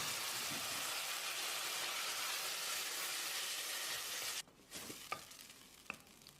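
Finely chopped medium tomatoes sizzle loudly in a pan of softened onions for chicken curry, a steady frying hiss for about four seconds that drops away, followed by quieter stirring scrapes and clinks.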